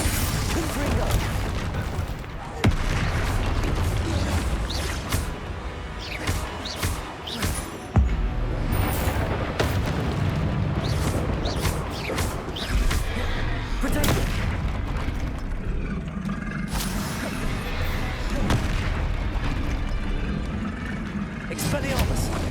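Confringo blasting-spell explosions burst repeatedly in Hogwarts Legacy combat, sharp booms scattered among other spell impacts and a constant roaring battle mix, with a voice calling out spells over it.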